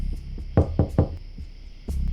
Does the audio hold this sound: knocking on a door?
yes